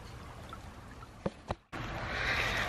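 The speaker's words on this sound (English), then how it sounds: "we have running water now" Water from thawed household pipes that had frozen under the house bursts into a steady rushing flow after a brief pause, preceded by a couple of short knocks, and grows slightly louder as it runs.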